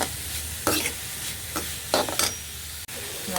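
Onions frying in a hot pan for a prawn thoran are stirred with a spatula: a steady sizzle with repeated scraping strokes and soft clacks, close and continuous.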